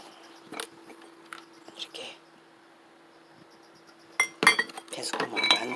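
A pretty bowl being turned into a plant pot with a drainage hole clinks and knocks as it is handled, with scattered light taps, a louder cluster of ceramic rattles near the end, and soft murmuring voice sounds.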